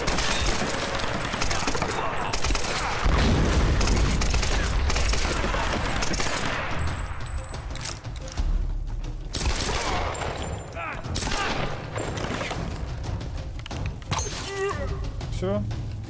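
Repeated gunfire bursts and thuds from the video game Tomb Raider crackle steadily through the stretch, with a voice talking over much of it, close and loud.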